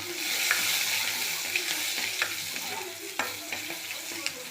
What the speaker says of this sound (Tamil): எண்ணெய் சூடானதும் கடுகு, உளுந்தம்பருப்பு, இது காயப்பொடி, சின்ன வெங்காயம் போட்டுக்கலாம்.